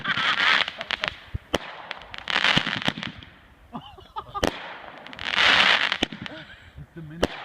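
New Year's Eve fireworks on December 31, 2013 burst in repeated sharp bangs and crackling volleys, some loud and close, others farther off, with people talking excitedly in between.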